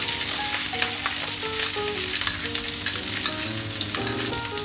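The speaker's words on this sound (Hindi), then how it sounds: "और इन सब इंग्रेडिएंट्स को हम अच्छे से भून लेंगे।" Curry leaves, finely chopped green chili and onion sauté in hot oil in a pan, a loud, steady sizzle with stirring scrapes throughout and no talk.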